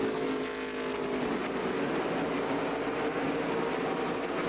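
ARCA West stock cars racing on a short oval track, engines roaring in a dense continuous drone that swells slightly as the pack passes, loud and sustained with no voices.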